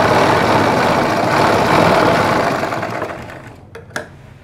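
Close, loud rattling whir of a sewing machine stitching a halter neck collar, running steadily and then slowing and stopping, followed by a couple of sharp small clicks.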